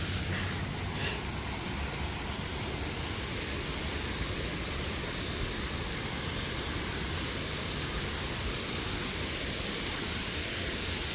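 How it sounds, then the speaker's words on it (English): Constant broad rushing of flowing water, even and unbroken throughout, fairly soft and steady like a distant stream or falls. "One of the most healing sounds is water."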